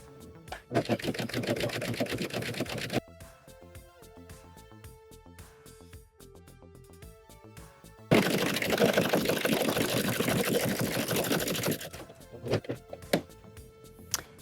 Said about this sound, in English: we're going to serge it right to it, making sure we are not pulling the elastic while we are serging this